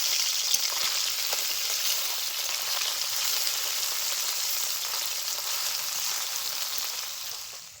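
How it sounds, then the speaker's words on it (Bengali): Small mixed fish frying in hot oil, a steady close sizzle with soft crackles holding level throughout, no voices. "একটা সাইড ভাজা হয়ে গেছে"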